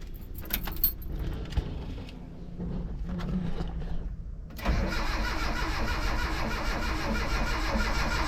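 A Mitsubishi L200 with an EFI conversion: keys jangle and rattle for several seconds, then the engine suddenly catches and settles into a loud, steady running roar that continues to the end.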